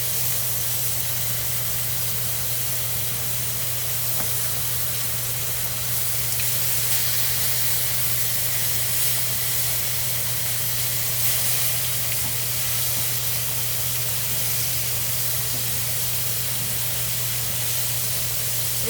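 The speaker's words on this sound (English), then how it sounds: "I'm going to turn the meat over and let the other side sear" Lamb chops searing in a hot pan give off a loud, continuous sizzle, a dense steady hiss that runs unbroken for nearly twenty seconds, close up with a low electrical hum underneath and no talking.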